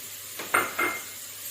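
Finely chopped capsicum dropped into a pan for a paneer tawa burger, two quick soft rustling thuds close by with a faint sizzle underneath.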